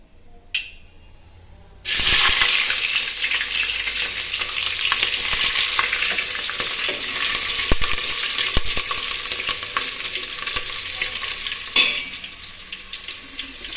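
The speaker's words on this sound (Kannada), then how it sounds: "ಮೆಣಸಿನ್ಕಾಯಿ ಚೆನ್ನಾಗಿ ಫ್ರೈ ಆಗಬೇಕು." Green chilies and mustard seeds fry in hot oil, a loud, steady sizzle kicking in abruptly and holding with small crackles and spatters throughout, no voices.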